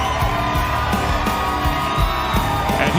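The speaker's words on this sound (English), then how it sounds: "And here comes the crowd behind Rebecca Fuselier." A large arena crowd at the CrossFit Games cheers for athlete Rebecca Fuselier, with a loud, steady roar of whoops and yells. The roar holds without a break.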